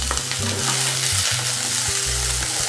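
Onion, beans, carrot and green peas sauté in a pan with a steady sizzle and a spatula scraping and stirring in rhythmic strokes, close and fairly loud, with no talking.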